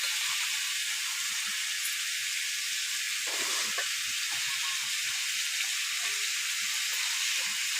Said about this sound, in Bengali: আলুগুলো ভেজে নিচ্ছে এখন পেঁয়াজ আর টমেটো দিয়ে।